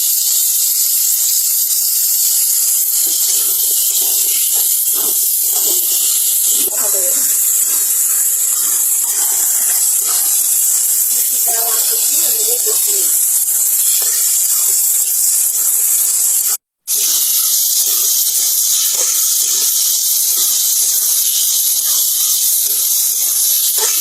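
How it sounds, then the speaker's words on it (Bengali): Taro and red lentils stirred in a hot pan with sliced chillies, giving a steady loud hiss throughout with faint scraping and one brief dropout near the end. "এখন মুখী কচু আর মসুর ডাল দিয়ে ভালোভাবে নেড়ে নিব।"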